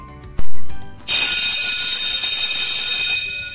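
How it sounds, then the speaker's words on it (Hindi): A loud electric school bell, the end-of-day bell, rings steadily for a couple of seconds after a brief sharp ding, bright and sustained, with no voices. "स्कूल की घंटी बजी, छुट्टी की घंटी।"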